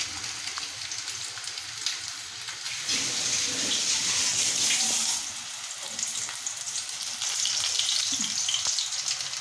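Five pieces fry in very little oil in a pan with a steady, close sizzle that swells and eases as they settle, continuing without talk.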